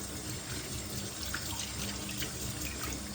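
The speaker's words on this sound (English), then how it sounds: "I've rinsed my mushrooms" Mushrooms are rinsed under a kitchen tap, giving a steady hiss of running water with light splashing throughout, fairly close and without speech.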